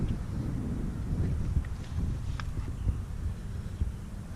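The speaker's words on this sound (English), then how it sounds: "Very cold, windy Saturday here in Virginia" Cold wind blowing outdoors on a Saturday in Virginia, a steady low rumble of gusts buffeting the microphone with a few faint knocks and ticks, no talk.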